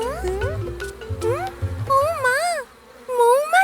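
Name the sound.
buzzing bees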